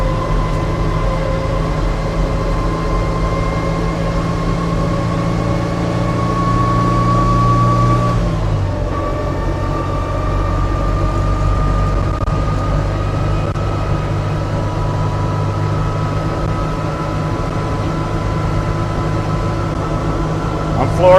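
A Steyr Puch Pinzgauer 6x6 military utility vehicle runs with its engine at full throttle, a steady droning hum with sustained tonal whine that dips briefly in pitch partway through, as if shifting, then carries on at constant load.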